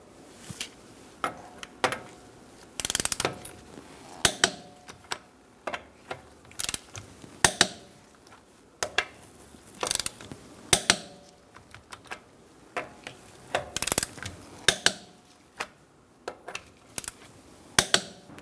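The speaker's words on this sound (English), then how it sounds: "Using a 19mm socket, we're going to torque our wheels to 100 foot-pounds." A 19mm socket on a torque wrench tightens the wheel nuts of a 2012-2018 Ford Focus to 100 foot-pounds in a star pattern, giving repeated sharp clicks and ratcheting taps in irregular bursts, close and alone.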